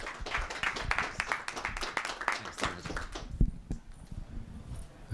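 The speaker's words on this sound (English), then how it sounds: "let's give a round of applause for Wei-Jien." A small audience at a talk claps for a presenter, a few seconds of close, uneven handclaps from a modest group that die away into quiet room noise.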